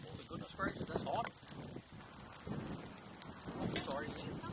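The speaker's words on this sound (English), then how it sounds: "It's so windy. It is very windy today." Gusty wind buffets the microphone in rough, roaring bursts outdoors in the Newfoundland wilderness, rising and falling throughout, with occasional faint background sounds mixed in.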